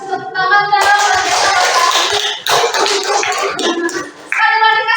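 Classroom applause for a student named Fahri: a dense burst of many hands clapping that swells for a few seconds, with tonal voices or music faintly around it at the start and end.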